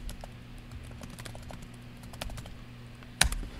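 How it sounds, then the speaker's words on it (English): Keystrokes tapped out on a computer keyboard while entering an npm run dev command, a quiet run of irregular clicks and taps closing with one louder key strike near the end. "we'll go ahead and type the command"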